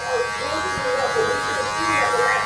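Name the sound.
hair clippers buzzing while cutting a high fade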